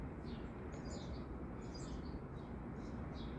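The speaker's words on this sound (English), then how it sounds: "it's a lovely thing, to get up in the morning and hear the birds" Small birds sing in the morning, their brief high chirps recurring faintly and far off over a low, steady ambient rumble.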